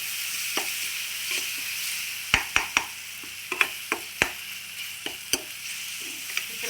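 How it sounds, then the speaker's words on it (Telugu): Tomato and onion gravy for a dried prawn curry sizzles in a pan, broken up by sharp scraping clicks of a spoon being stirred through it in an irregular rhythm, close and fairly loud. "మళ్ళీ మిక్సింగ్ మిక్సింగ్ మిక్సింగ్. ఇలా కలుపుకుంటే గ్రేవీ అవుద్ది అనమాట."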